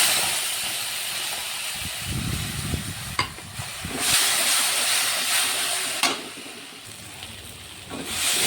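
Tomatoes hit a pan of frying spices for a shrimp and jackfruit curry, giving a broad steady hiss with bubbling sizzle and a few sharp clinks of stirring, close by.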